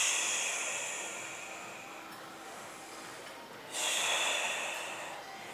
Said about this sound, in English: I want you to focus in on that exhale. Slowly control it out.